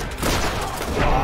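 Rapid continuous gunfire from the video game Borderlands roars in a dense, loud burst without pause.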